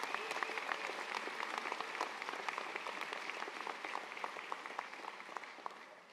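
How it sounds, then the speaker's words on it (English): An audience at a School of Architecture and Design commencement gives the school staff a steady round of applause, dense even clapping throughout, fairly distant and fading slightly at the end. "ask for a round of applause for them,"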